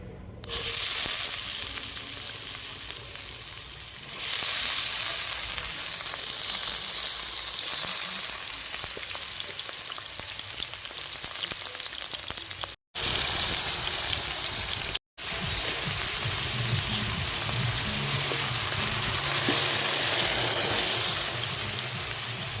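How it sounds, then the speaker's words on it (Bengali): Carrots and cauliflower fry in white oil with a loud, continuous sizzle, close up and steady, with two brief cuts of silence. "আমি গাজর আর ফুলকপি একসাথে ভেজে নেবো"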